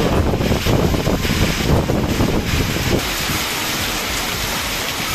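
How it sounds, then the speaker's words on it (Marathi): Heavy rain pours down steadily at Murudeshwar with gusts of wind buffeting the microphone, loud and close, easing slightly toward the end. "खूप जोरात पाऊस आहे."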